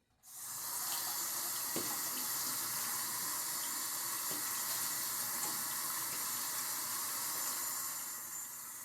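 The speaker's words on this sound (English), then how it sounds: "When you're rinsing rice for either rice pudding or cooking rice, you want to rinse it until the water runs clear." Rice being rinsed in a kitchen sink under running tap water, a steady close splashing flow that continues unbroken from start to end with no talking.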